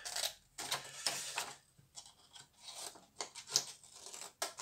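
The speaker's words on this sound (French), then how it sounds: "Je découpe un petit peu en biais" Scissors cut paper at a slant while an envelope is being made. The soft, close snips and rustling scrapes come in irregular bursts and stay quiet throughout, with no voice.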